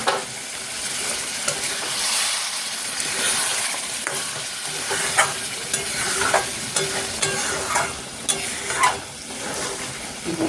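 Paneer frying in butter in a pan gives a steady, close sizzle, with repeated scrapes and knocks of stirring scattered through it and no talking.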